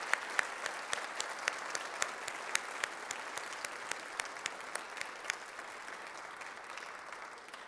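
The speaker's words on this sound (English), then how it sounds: "Let's give them one more big round of applause." Audience applause for Girl Scouts at a council recognition ceremony, a steady round of many hands clapping at moderate distance, sustained and fairly even throughout with no talking over it.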